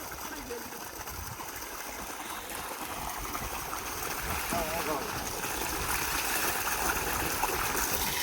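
Water flows in a continuous rushing stream outdoors, close by, growing slightly louder and fuller partway through, with no voices over it.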